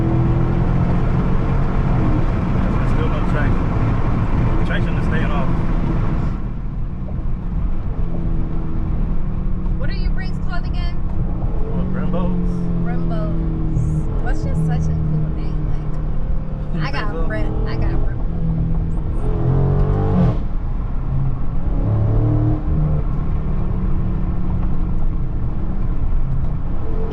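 A 2023 Dodge Charger Scat Pack Widebody Last Call with traction control off drives and revs, its steady loud engine drone running throughout under near-constant conversation from people inside the car.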